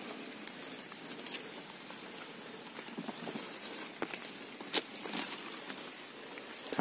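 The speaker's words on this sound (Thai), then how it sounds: "ฝนตกครับฝนตกหมอกลงครับพี่น้อง" Rain patters steadily on leaves and surfaces in misty woodland, a soft, continuous crackling hiss with scattered sharper drops, fairly close and with no talking.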